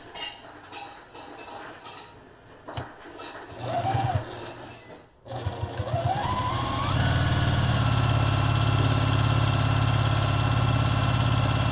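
A sewing machine stitches a chicken-shaped pot holder, starting in short bursts and then settling into a loud, continuous whirring run, close up and with no voices over it.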